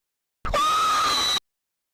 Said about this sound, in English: This one says scream sound effect funny.